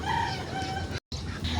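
Chickens cluck and a rooster crows nearby, with a brief dropout in the middle before the clucking continues.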